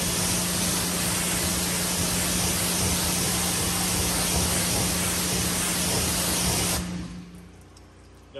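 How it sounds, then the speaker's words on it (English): A loud, steady hiss of pressurized water spraying and rinsing a car door continues for several seconds up close, then cuts off, leaving a quieter background hum. "so we're going to give it a spray and rinse off"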